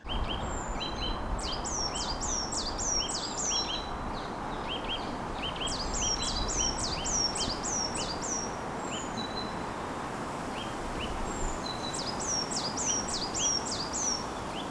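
Birds, including great spotted woodpeckers and a nuthatch, sing repeated bright, quick phrases in bursts in a park over a constant rushing outdoor background, fairly distant, with no talking.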